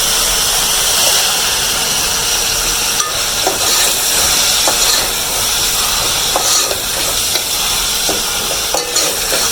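Minced chicken keema with ginger garlic paste sizzles loudly in a hot pan, a constant close hiss and frying crackle with occasional clinks of stirring.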